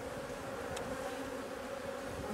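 Honeybees from a small swarm hum at the hive in a dense, even buzz, with a single bee droning briefly close by.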